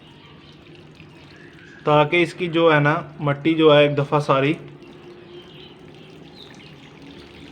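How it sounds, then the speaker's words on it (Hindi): Water pours from a shower-head watering can onto soil around young agave pups in pots, a soft steady spray heard faintly beneath someone speaking Hindi-Urdu in the middle of the clip. "शावर की मदद से हम पानी दे लेंगे इनको"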